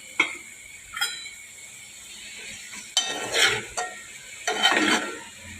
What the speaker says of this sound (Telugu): ఇప్పుడు క్యాప్సికమ్ వేసుకుంది